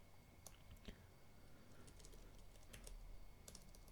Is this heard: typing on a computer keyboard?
yes